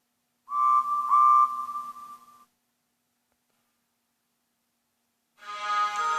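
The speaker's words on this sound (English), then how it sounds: "Rosie heard a whistle she had not heard for years." A steam engine whistle sounds loudly with a steady tone and a slight pitch wobble for about two seconds, then silence, then a second blast begins.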